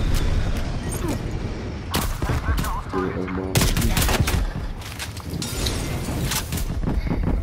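Gunfire from Call of Duty: Black Ops Cold War multiplayer, with repeated loud shotgun blasts and bursts of rapid fire in quick succession over a continuous din of in-game action.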